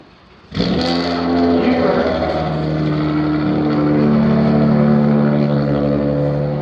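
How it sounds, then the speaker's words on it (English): A car with a loud exhaust, apparently missing its catalytic converter, rumbles past at a new-construction site, starting abruptly and holding a steady, droning roar throughout. "Sounds like he lost his catalytic converter, huh?"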